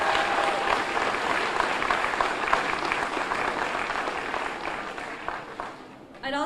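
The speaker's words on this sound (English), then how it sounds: "So please give a round of applause to our PTA and parents." Steady crowd applause at an elementary school ribbon-cutting ceremony, dense and sustained for several seconds before thinning out near the end.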